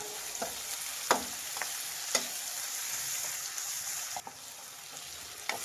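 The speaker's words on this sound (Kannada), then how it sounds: "1 3 ಲವಂಗ ಹಾಕ್ತಾ ಇದ್ದೀನಿ. ಮಿಕ್ಸ್ ಮಾಡಿ." Whole spices including cloves sizzle and fry in hot oil for a mutton fry, with a steady crackle and several sharp scraping stirs of a spoon against the pan, close and alone with no voices.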